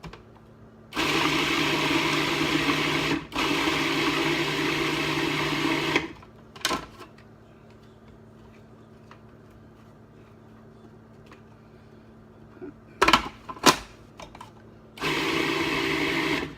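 A food processor pulses chopped cauliflower for a taboule salad, with two long, loud whirring runs, a few short blips, then another steady burst that starts and stops abruptly.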